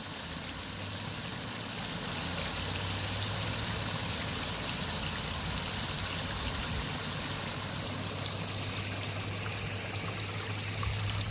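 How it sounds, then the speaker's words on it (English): Steady, continuous rush of a waterfall at a nature park on a chilly day, a dense broadband roar heard alone with no voices, constant in level from start to finish. "just come and listen to the waterfall"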